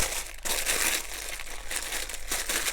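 Wrapping material crinkles and crumples continuously up close while a golf swing trainer is unboxed, a loud, busy rustle with brief crisp bursts throughout.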